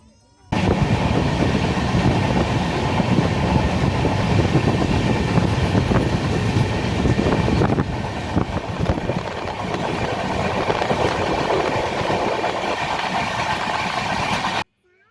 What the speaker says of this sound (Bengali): বিশাখাপত্তনম জংশন ছেড়ে দিল আমাদের ট্রেন।